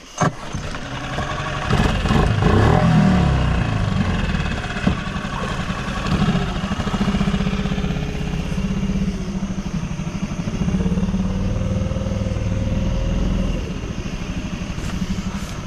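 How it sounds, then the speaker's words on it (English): A small fishing boat motor on a Pelican boat in a Louisiana swamp starts and runs steadily, a loud close buzzing drone that shifts slightly in pitch as it keeps going. "This little pelican boat does good."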